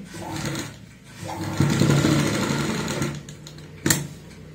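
Sewing machine running in short bursts while stitching the pocket opening of a homemade capri, a steady mechanical whir close by with a brief sharp click near the end.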